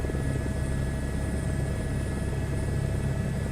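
Simulated helicopter rotor in a flight simulator, flying near buildings while moving from forward flight into a hover, a steady dense thrumming drone with low rumble that holds constant throughout.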